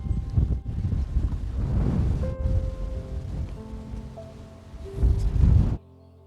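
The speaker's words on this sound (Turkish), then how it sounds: "Hava oldukça rüzgarlı." Steady wind buffeting the microphone with a low rumbling roar, swelling louder near the end before cutting off abruptly.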